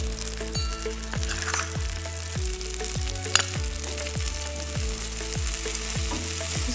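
Two tablespoons of flour sizzle and fry in melted butter in a pan for a lasagna sauce, steady close crackle with rhythmic stirring scrapes.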